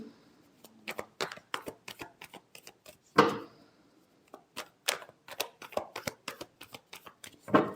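A deck of tarot cards is shuffled by hand in a quick run of crisp, sharp riffles and taps, close and uneven in rhythm, with no one speaking.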